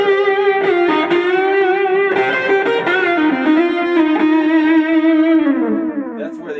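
An electric guitar plays through a Zvex Nano all-tube amp driven by an RC booster, giving sustained, overdriven notes with a slowly bending lead line that fades at the end.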